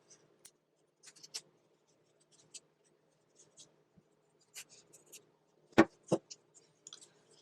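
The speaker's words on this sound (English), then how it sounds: "now I'm going to take my scissors to trim off the rest" Quiet, sparse snips and soft scraping close by as scissors trim felt, with a couple of sharper cuts standing out; no talking.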